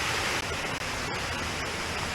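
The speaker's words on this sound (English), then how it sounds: "You give us waterfalls like that." A waterfall beside an old stone aqueduct roars as a steady, dense wash of broadband noise, loud and continuous with no other sounds.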